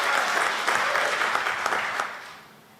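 A congregation claps for God during a Sunday church worship service, producing dense, loud crowd applause that holds steady and then fades out toward the end, with no talking.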